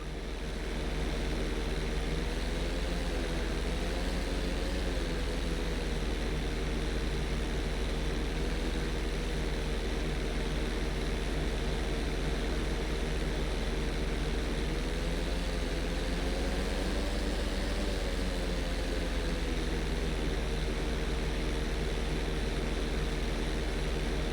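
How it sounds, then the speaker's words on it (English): A GTA 5 airplane engine drones steadily through an inside loop stunt, a continuous loud hum whose pitch rises and falls gently as the plane climbs and levels, with no other sounds. "Always make sure your plane is straightened out before you attempt an inside loop"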